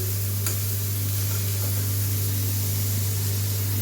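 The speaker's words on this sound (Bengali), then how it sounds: "গাজরটা ভেজে নিচ্ছি" Grated carrot fries for carrot halwa, giving a soft, steady hiss nearly buried under a loud constant electrical hum and broadband noise, with a faint scrape or two.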